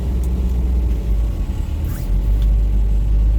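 A restored 1964 Chevrolet Impala is out on its first drive, its engine a loud, steady low rumble heard from inside the cabin with a faint whirring over it and no talking.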